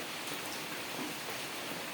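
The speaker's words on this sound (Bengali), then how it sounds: "আজকে খুব বৃষ্টি হচ্ছে।" Heavy rain pours down in a dense, even hiss without pause.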